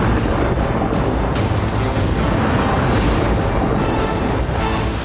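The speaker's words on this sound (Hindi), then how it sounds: "उसने उत्तरी गाजा में इजरायली सेना की एक टुकड़ी को लैंडमाइन से उड़ा दिया।" A landmine blast strikes an Israeli army unit in northern Gaza, a loud, sustained roaring rumble with several sharp bursts within it, filling the whole clip.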